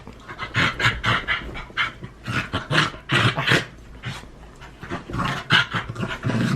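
Dogs panting heavily indoors in rapid rhythmic bursts up close, with occasional low growls and whimpers mixed in, and no talking.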